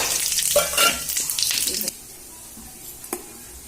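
Cumin, dried chili and bay leaf tempering in hot oil give a loud, crackling sizzle for about two seconds, then it drops to a softer hiss with one sharp pop near the end.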